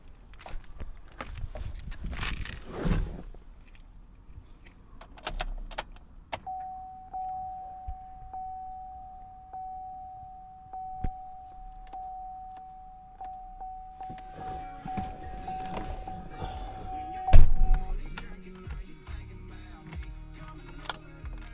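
Keys jingle near a 5th-generation Chevrolet Camaro with a new starter, followed by a long, steady electronic chime and a sharp thump, in a quiet setting.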